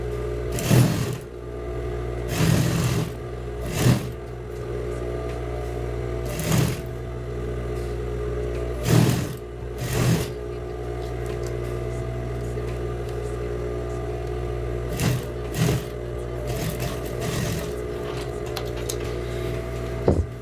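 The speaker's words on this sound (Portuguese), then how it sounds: "Agora é só vir esticando e costurando o resto." A sewing machine stitches fabric for a child's dress, giving a steady mechanical hum broken by several short, louder bursts of stitching across the clip, with no talking.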